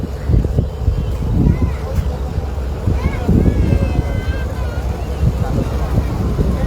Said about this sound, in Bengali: এই দেখুন কি সুন্দর ট্রলারে করে মাছ ধরে নিয়ে যাচ্ছে।